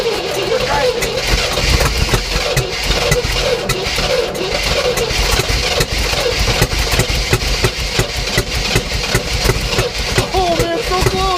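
A 1967 Oldsmobile Toronado engine cranking over and trying to catch, a loud, continuous rapid chugging with sputters. People talk over it.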